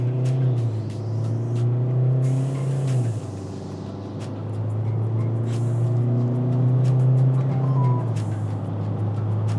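A 2023 SsangYong Rexton with a 2.2 diesel engine and all-wheel drive accelerates hard from the cabin, its engine drone rising through a gear, briefly dropping at the shift, then climbing again, loud and close.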